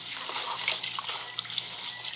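Bare hands break up fresh homemade cheese curd in a bowl of salted water, giving a steady close wet sloshing and dripping with small splashes throughout.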